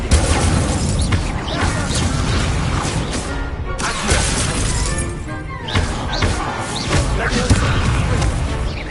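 Incendio fire spell cast during a Hogwarts Legacy duel, a dense, roaring burst of crackling impacts and crashes layered over game noise, loud and continuous with brief gaps.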